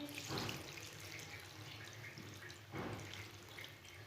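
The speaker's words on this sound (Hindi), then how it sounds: "1 गिलास पानी डाल लेंगे।" Water from a glass is poured into a pot of spinach and potatoes for aloo palak, giving two faint splashing bursts a couple of seconds apart over quiet kitchen background.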